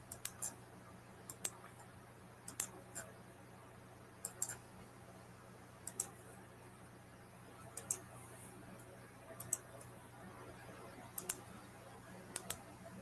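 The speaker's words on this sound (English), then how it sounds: "This mouse clicking gets on my nerves" Computer mouse clicking, crisp sharp clicks coming in short pairs and triplets roughly every second or two across a quiet background, close and distinct.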